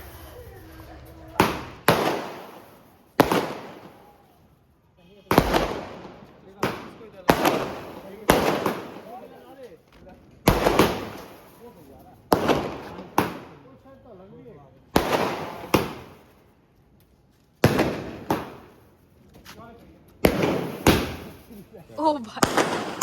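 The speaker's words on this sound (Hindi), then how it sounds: "दोबारा पटाखे फोड़े थे, स्काई शॉट रह गए थे हमारे 2" Diwali firecrackers and sky shot fireworks: a series of loud, sharp bangs and bursts at irregular intervals, each with a crackling tail, close by and under occasional voices between the blasts.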